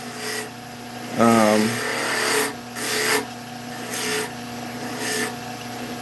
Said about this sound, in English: we're gonna go to sandpaper